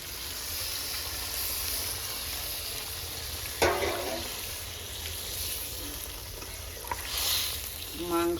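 Meat and potatoes sizzle in hot oil in a pan, a steady frying hiss, then a sudden louder crackling burst as a little water is added, followed by stirring scrapes and continued sizzling.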